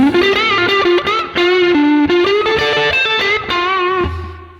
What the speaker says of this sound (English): I would not put too much distortion, just like a saturated distortion sound